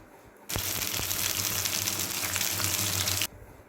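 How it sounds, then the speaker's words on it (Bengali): Bora fritters of bottle gourd leaves and dried puti fish hit hot oil on a tawa, setting off a loud, dense frying hiss that bursts in abruptly and holds steady for about three seconds before cutting off. "এখন একটা একটা করে সব বড়াগুলো তাওয়াতে দিয়ে দিচ্ছি।"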